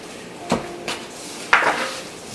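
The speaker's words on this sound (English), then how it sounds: "So we're almost finished the chopping process." Knife chopping ingredients for spicy tomato jam, a few sharp, distinct knocks on a board spaced apart, close and fairly loud with no talking.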